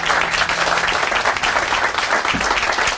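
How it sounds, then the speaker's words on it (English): A crowd at a library groundbreaking ceremony breaks into loud, sustained applause, a thick wash of many hands clapping evenly for the full span. "Can we give them a round of applause for their work?"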